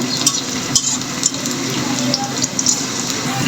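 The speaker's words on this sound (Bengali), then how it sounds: "পেঁয়াজটা একটু লাল করে ভেজে নেব" Onions fry in a pan for a chapila fish curry with a loud, close, continuous sizzle and crackle, broken by occasional stirring scrapes.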